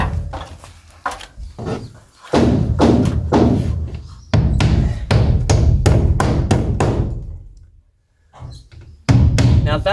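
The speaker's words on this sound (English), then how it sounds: "Okay, we're almost done nailing off." A hammer drives nails into a 6 mm cement sheet during installation, giving loud, close, heavy thuds in quick runs of blows separated by brief pauses.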